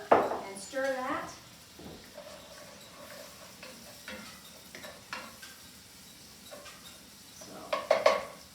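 Food browns in a pan on a stovetop, giving a soft sizzle with intermittent utensil clinks and scrapes against the pan, plus brief speech-like bursts at the start and end.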